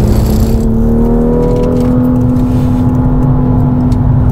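A BMW M2 engine pulls hard on the Mugello racetrack, a loud, steady rising drone with a strong, continuous note.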